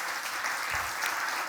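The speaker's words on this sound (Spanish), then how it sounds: "Quiero que le demos un aplauso también muy fuerte a otra mujer" An audience at a public accountability event claps in a dense, continuous burst of applause that stays steady throughout, with no voices over it.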